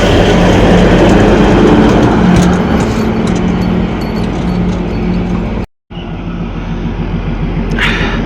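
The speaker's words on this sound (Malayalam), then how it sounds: "നമ്മളിവിടുന്ന് കൊണ്ടുപോകാനുള്ള ലോക്കോമോട്ടീവാണ് ഇപ്പോൾ എടുത്തിട്ട് അങ്ങോട്ടേക്ക് പോകുന്നുള്ളത്." A diesel locomotive on the Kalka-Shimla narrow-gauge railway moves past with a loud, continuous mechanical rumble and rattle. The sound cuts out briefly near the end, then resumes with a high squeal.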